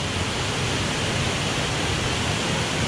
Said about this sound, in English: and there's a waterfall